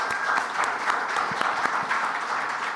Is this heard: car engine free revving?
no